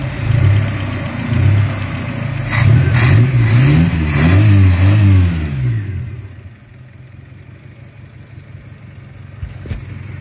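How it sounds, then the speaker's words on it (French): A Renault 16 engine, restarted after 20 years unused, revs up and down in several rising and falling sweeps, fairly loud and close, then drops back to a quieter idle. "c'est un super moteur, il tourne super bien."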